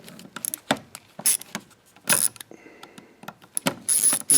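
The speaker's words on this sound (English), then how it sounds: "we're just going to pull these 4 screws off the cap here" Small screws are backed out of the end cap of a Drill Master 4.5-inch angle grinder, giving sparse clicks, scrapes and metallic ticks of a hand screwdriver, close and quiet with gaps between.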